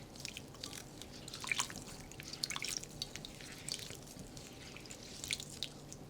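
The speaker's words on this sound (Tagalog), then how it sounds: "Banlawan muna natin ng tubig yung sitaw ko" Quiet trickling and dripping water with faint splashes, steady and close, as string beans are rinsed under a gentle stream.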